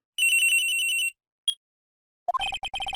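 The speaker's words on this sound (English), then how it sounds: "At around 10:30, I received a call on my cell phone." A cell phone in the Ace Attorney video game rings with a bright electronic trill, pauses, gives a brief chirp, then starts a rapid pulsing melodic ringtone.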